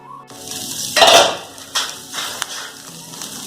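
Butter dosa made from leftover idli batter fries in oil on a pan under a lid, a close crackling sizzle with bursts and several clanks of utensils and lid.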